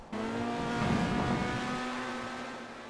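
Race cars in a racing video game accelerate hard with a sustained, droning engine whine whose pitch climbs and holds, loud and continuous, without any voices.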